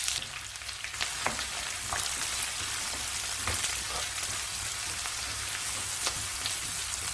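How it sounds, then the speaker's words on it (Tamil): Onions and green chillies sauté in a mix of oil and ghee with cinnamon and fennel for a chicken biryani, giving a loud, continuous close sizzle broken by occasional sharp spatters and stirring clicks, with no talking. "பச்சை மிளகாய், வெங்காயம் சேர்த்து வதக்கலாம்."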